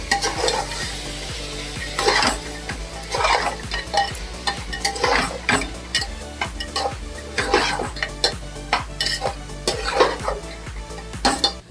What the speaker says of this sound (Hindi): इस तरह से कवर करके कम से कम 5-10 मिनट फ्राई करूँगी मैं।